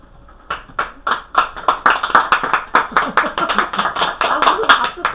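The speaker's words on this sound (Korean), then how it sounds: "아, 무슨 박수까지야." Audience applause at a Korean SNS business startup lecture, a burst of many clapping hands building quickly and continuing steadily, with a voice speaking over it.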